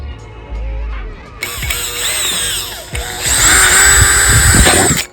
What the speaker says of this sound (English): So we get the drill set up, we pilot hole in the top.